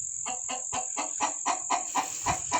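Sweater breed hybrid hen clucking nearby in a quick, even series of about ten short clucks, moderately loud over a constant high electronic whine.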